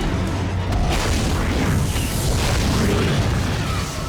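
A line gun fires in Dead Space and its charges explode in dense, overlapping booms and bursts, loud and sustained with a mechanical clatter.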